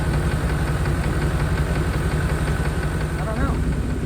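A 1992 Chevrolet Caprice wagon's fuel-injected engine runs steadily at idle with a continuous low, even rumble, close by, as someone speaks over it.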